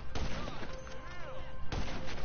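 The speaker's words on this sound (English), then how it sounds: "Tengo mi sniper." Sniper rifle shots in GTA 5, a few sharp, widely spaced cracks with a whistling tone between them, set against background game noise.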